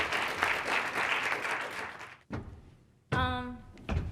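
Conference audience at a closing session breaking into sustained applause, dense and close, fading out after about two seconds before a voice starts speaking.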